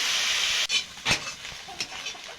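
Cauliflower with green chilli frying in a pan, a steady loud hiss that drops out briefly, then returns with sharper spattering bursts as the pieces are stirred.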